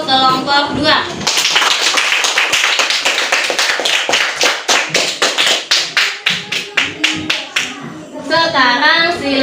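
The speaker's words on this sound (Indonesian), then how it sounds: "berikan tepuk tangan untuk kelompok 2" A classroom of students claps for a presenting group, starting scattered, then settling into a fast rhythmic unison clapping pattern before fading, with children's voices talking at the start and end.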